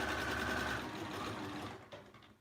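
A sewing machine stitching straight along a zipper pouch, a fast steady mechanical whirr up close that slows and fades at the end, without voices.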